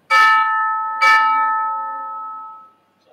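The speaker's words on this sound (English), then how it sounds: "this is just your standard chime from a rack of chimes" A standard chime from a rack of chimes is struck twice, about a second apart, each ring bright and sustained, the second tone lingering and slowly fading out.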